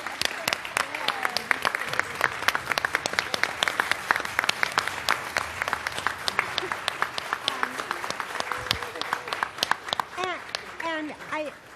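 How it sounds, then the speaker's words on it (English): Audience applause fills a city council meeting chamber in Alameda, a dense steady wash of many hands clapping for nearly twelve seconds, with voices and cheers mixed in and tapering toward the end. "I usually have a no applause rule, but we can set that aside if y'all would like to applaud."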